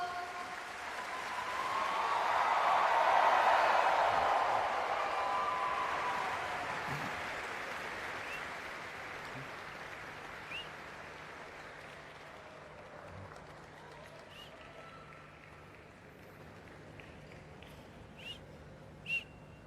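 Audience applause at a Goa government event, swelling to a broad, sustained wash of clapping near the start, then thinning to a scattered, fading patter with a few isolated claps toward the end.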